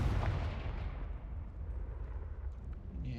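A Confringo fire spell in Hogwarts Legacy detonates with a heavy, booming blast at the start, its rumbling roar slowly fading over a few seconds.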